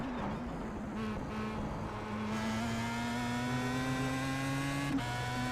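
A Pro Mazda open-wheel race car holds flat out through a corner at Road America, its engine a loud, steady high-pitched drone that rises slightly in pitch, heard from onboard with no talk.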